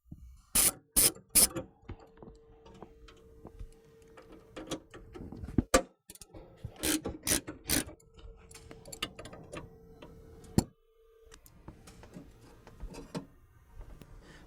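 A ratchet clicks in quick sharp bursts, pausing between runs, while loosening the four bolts of the stock airbox mounting plate on a 2009-14 GM Silverado 1500, close and crisp in a quiet garage.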